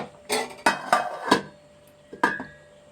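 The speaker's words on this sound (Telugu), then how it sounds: "ఒకసారి మూత పెట్టుకుంటాను" Metal lid set onto a cooking pot of vegetable curry, a few close clanks and clinks in quick succession, then a pause and one more sharp metallic knock, no talking.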